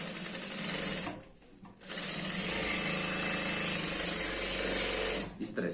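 Sewing machine stitching a girl's skirt, a steady close motor whir that runs almost throughout with a brief dip and pause near the start and stops just before the end.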